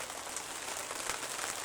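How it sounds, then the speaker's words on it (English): Heavy rain pounds steadily on a carp-fishing bivvy in wind, a dense continuous patter close overhead with no other sounds breaking through. "It's hoofing it down with rain, it's windy"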